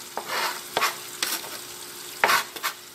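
Eggs frying in a pan, a soft crackling sizzle with a few sharp scrapes and clacks of a utensil spaced through it, fairly close and with no talking.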